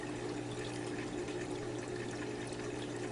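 An Azoo Mignon 60 aquarium filter on full flow, stirring the tank's substrate, gives a soft, constant churn of rushing water with a low pump hum underneath.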